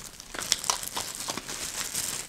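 A sealed plastic swag bag of MAC cosmetics is handled up close, giving a steady run of crisp crinkles and rustles with no talk over it.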